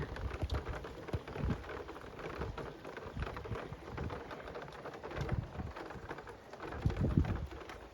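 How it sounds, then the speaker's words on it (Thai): Hail mixed with rain pelts the ground during an April storm in Thailand, a dense, steady patter of many small impacts with heavier bursts, continuous throughout and fairly close. "เป็นลูกเห็บแหละเพราะขาว เต็มพื้นเลย"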